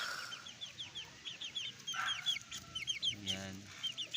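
Young pure Milsim Black gamefowl chickens, about two months old, clucking in a steady run of short repeated calls, fairly close, with a few other chirps and birds mixed in and no talk.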